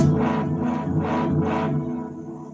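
A bass guitar played through a tape delay pedal set for several repeats produces a few swelling, distorted notes that echo and fade into a decaying tail, with no talking.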